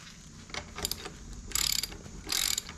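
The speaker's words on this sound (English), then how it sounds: "I'm using a 21mm half inch drive, and we're going to go ahead and do lefty loosey to get it off" Half-inch drive ratchet with a 21mm socket loosening the axle nut on an Ariel Rider Grizzly eBike: quiet, close clicking of the pawl in a few short rapid bursts, with no talk.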